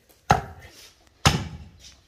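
A cleaver chops through pork hock bones on a board with two heavy, sharp thuds about a second apart, close and loud, each followed by a brief rattle.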